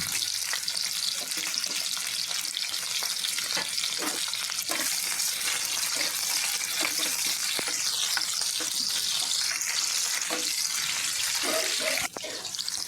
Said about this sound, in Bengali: প্যানে তেল দিয়ে গাজর আলু বিনস ক্যাপসিকাম কপির ডাঁটা ভেজে নিচ্ছি